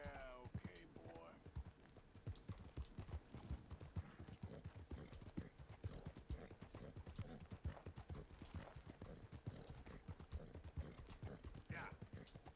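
Horse hooves clip-clop steadily in Red Dead, a near rhythmic trot under intermittent talking, with a brief whinny early on.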